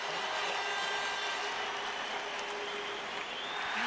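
Stadium crowd at the Kilkenny vs Cork All-Ireland hurling final roaring and applauding the champions, a steady, dense wall of cheering and clapping heard from a distance.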